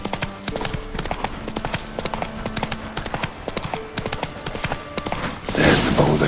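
Roach the horse gallops through The Witcher 3, hooves pounding in a steady rapid clip-clop with game music beneath, ending in a louder burst of noise.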